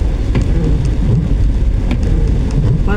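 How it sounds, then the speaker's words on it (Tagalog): Heavy rain pours down loudly and steadily, a dense roar of falling water with scattered sharper drops and low rumbling underneath, with no one speaking. "Lakasan ng ulan."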